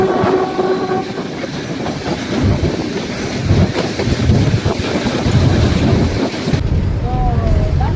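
Passenger train on the Western Railway line toward Veraval Junction in Gujarat, a steady rumbling rail roar with wind buffeting the microphone, continuous and fairly loud throughout.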